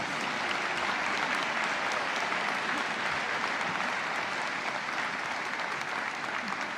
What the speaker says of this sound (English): Now, let's all give them a round of applause and thank them all for being with us